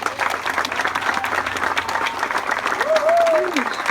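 Steady applause from an outdoor crowd at a park ribbon-cutting ceremony, fairly close and continuous, with a voice calling out briefly near the end.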